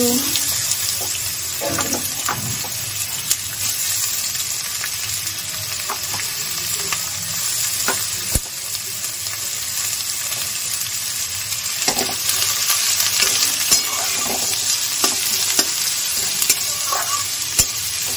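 Chopped onion frying in a pan with already fried garlic, a continuous sizzle with scattered spatula scrapes and clicks throughout, close and steady with no talk.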